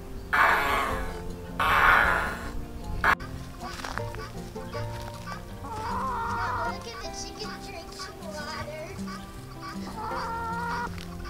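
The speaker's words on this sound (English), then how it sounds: "We have this chicken right here named Hairdo." A hen clucks in bursts up close at the start, then softer clucks continue under a backdrop of music for the rest of the clip.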